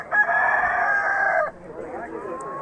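A rooster crows once at the Xo'jaobod poultry market, a loud, close, drawn-out call of about a second and a half, followed by faint market background and clucking.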